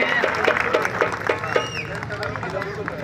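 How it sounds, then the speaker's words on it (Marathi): Spectators at a traditional kusti wrestling bout during the Shri Bhairavnath festival in Pune clap in a busy, continuous patter of applause and crowd noise, with an announcer talking loudly over it. "टाळ्या करा जोरदार या ठिकाणी"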